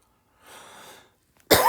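A single short cough breaks out, faint and breathy at first, then a sharp loud burst right at the end.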